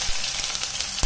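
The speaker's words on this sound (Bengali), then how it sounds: "আর এখন পাঁচফোড়ন দিয়ে দিচ্ছি, সাথে থেতু করা আদা" Panch phoron spices and crushed ginger sizzle steadily in hot oil with dried bay leaf and red chilli for vegetable khichuri, a continuous bright hiss with a louder crackling burst near the end.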